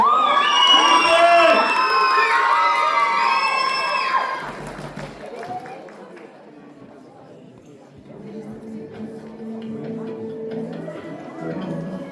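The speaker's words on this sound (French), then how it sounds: "on les applaudit bien" A crowd at a cosplay contest cheers and shouts loudly, with high excited voices and whoops for about four seconds. The noise then drops to scattered chatter, and music begins faintly underneath.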